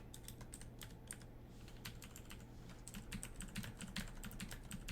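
Computer keyboard keys are pressed during a Dungeon Crawl Stone Soup session in a steady run of quick, close clicks and taps, with faster bursts toward the end and no voices.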